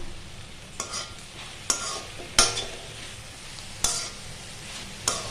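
Softened capsicum stir-fry is stirred in a pan over a low, steady sizzle. About five distinct scraping strokes of a spatula land at uneven intervals, and there is no talking.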